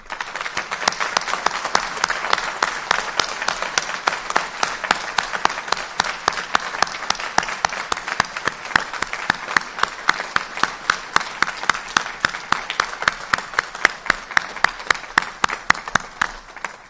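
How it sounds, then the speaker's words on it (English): Sustained audience applause for graduating psychiatry and behavioral medicine residents at the close of their graduation ceremony, dense steady clapping from a large crowd with no voices, running evenly throughout. "Let's please give our graduates one final round of applause."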